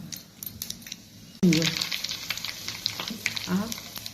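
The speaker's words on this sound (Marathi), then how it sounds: "ह्याला फोडणी करते। तेल घालते 1-2-3 चमचे। त्याच्यात मोहरी अर्धा चमचा" Mustard seeds and cumin hit hot oil for tempering, bursting into a sudden loud sizzle that continues steadily with crackles and pops, close by, after a quieter stretch of small kitchen clatter.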